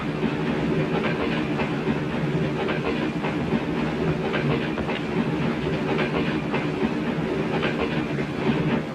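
A passenger train in a 1972 horror film rolls along with continuous wheel rumble, rhythmic clickety-clack over the rail joints and a faint hiss, all loud and steady without pause.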